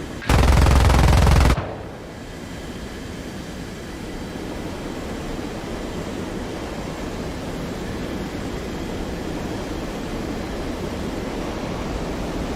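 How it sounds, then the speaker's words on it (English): Aircraft guns in War Thunder fire in a loud, dense burst for about a second, then give way to a steady roaring wash of engine and wind noise that continues to the end. "The guns sound good,"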